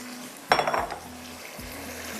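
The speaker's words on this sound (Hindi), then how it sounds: "चलें जी, अब इसमें जा रही है ये" Pieces of fish go into a pan for frying, giving one short clattering splash followed by a faint, steady background.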